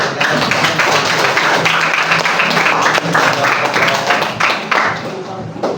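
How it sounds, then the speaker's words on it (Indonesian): A crowd claps together in steady, dense applause that carries on for several seconds, loud and close, with some voices mixed in. "kita tepuk tangan untuk para pemenang"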